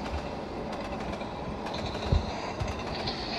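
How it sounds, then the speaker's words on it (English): A TGV Duplex high-speed train in the Trainz railway simulator rumbles past with a steady roar and clickety-clack wheel beats, plus a few sharper rail knocks near the end, loud and with no talk. "the TGV is thundering down the town"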